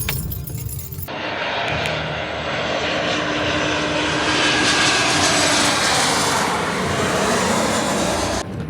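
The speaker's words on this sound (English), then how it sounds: "there's a plane landing" A fixed-wing airplane comes in to land near an airport car park, its engine roar swelling to a loud, steady rumble that lasts several seconds before easing slightly, with no talking.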